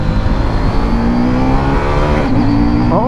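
A CFMOTO 800 motorcycle with a quick shifter pulls hard through the gears, its loud engine note climbing steadily and continuously, with a quick pitch change near the end as it shifts up.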